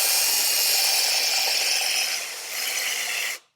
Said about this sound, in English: really just use the drill to accelerate the polishing process,